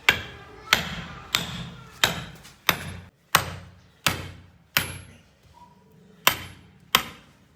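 A steel chisel hammered into wood, about ten sharp, heavy strikes at an uneven pace, each ringing briefly before fading, close and loud with no talking.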